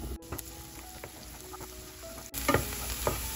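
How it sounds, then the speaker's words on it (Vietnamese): Chopped shallots and white onion parts stir-fry in hot pork lard, giving a steady close sizzle with scraping stir strokes. The frying swells louder partway through, and no one speaks. "chúng mình xào cho nó thơm lên nha."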